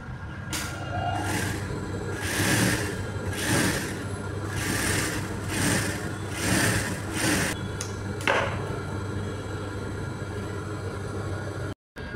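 Sewing machine running a stitch along a folded quarter-inch edge for blouse piping, with a continuous close mechanical whir and a soft rhythmic thump before it stops abruptly near the end.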